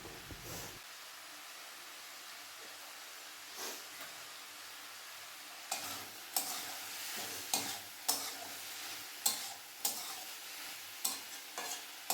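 Ash gourd being stirred in a pan with cumin powder and two green chillies, giving a soft steady sizzle with a run of repeated spoon scrapes and knocks, close and fairly loud, no talk.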